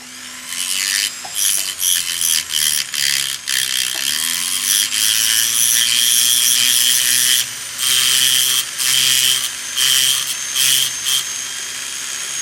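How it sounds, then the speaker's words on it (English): An abrasive disc carves wooden dragonfly wings, giving a steady, close, loud grinding rasp that rises and dips in short strokes, with brief pauses between passes. "And I'm going to use an abrasive disc and just carve them."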